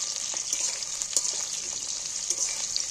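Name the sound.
chicken pieces frying in oil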